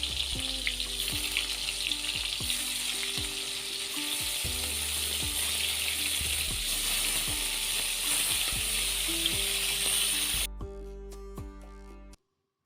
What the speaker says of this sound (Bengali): তারপর তেলটা গরম হয়ে গেলেই চিংড়ি মাছগুলো ভেজে নিতে হবে।